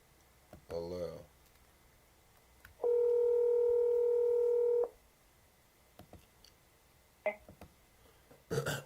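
Telephone dialing for a call back: one sustained two-tone dial signal of about two seconds, with a few short clicks and brief sounds around it and a voice talking briefly at the start.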